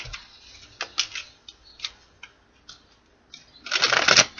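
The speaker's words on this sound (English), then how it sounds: "Two more shuffles for my Capricorns." Tarot cards are shuffled in several soft riffling bursts with short pauses between, ending in a longer, louder flurry close by; no one speaks.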